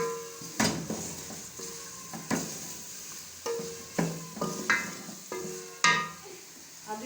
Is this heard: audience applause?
no